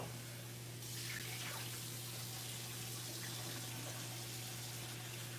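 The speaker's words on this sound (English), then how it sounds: "We gotta wash this pan out." Running water from a tap rinses out a pan in a sink, a steady continuous splashing rush that stays fairly loud throughout with no talking.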